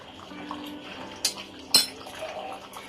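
A spoon stirs garam masala powder into a pot of Bengali mutton curry with boiled potatoes, with soft scraping and two sharp metallic clinks against the pot, fairly quiet.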